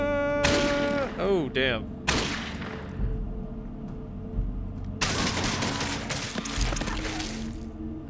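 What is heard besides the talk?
gunfire during combat in the video game Fallout 2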